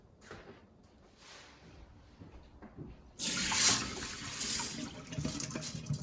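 Soaked rice is rinsed under a kitchen tap, with quiet handling noises giving way to a loud, close rush of running water that splashes steadily into the sink.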